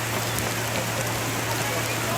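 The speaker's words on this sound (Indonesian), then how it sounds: "Kira di sini sudah hujan deras ini." Heavy rain in Toraja pours in a steady, dense hiss that does not stop, along with a low constant hum, while people prepare for a wedding.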